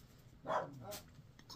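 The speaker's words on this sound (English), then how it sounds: "Dogs are getting a little bit freaked out when they come inside the cave." Dogs inside a Lake District cave bothy give a couple of short barks and yips, echoing in the enclosed space, with people speaking softly around them.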